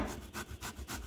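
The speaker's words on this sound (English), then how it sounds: "I'm gonna just grate this and grate this" Plantain and golden beetroot are grated by hand in quick rhythmic strokes. The rasping scrapes repeat about four times in just over a second, close and fairly loud.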